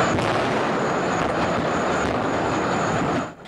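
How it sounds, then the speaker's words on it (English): Propane plant explosions: a sustained, dense roar of rumbling blasts and crackling, loud and continuous for several seconds before cutting off abruptly near the end. "The explosions could be heard from miles away."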